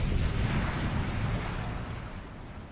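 Bombardment explosions pounding a museum in the video game Batman: Arkham City, a deep, heavy rumbling roar that starts loud and slowly fades, with no voices.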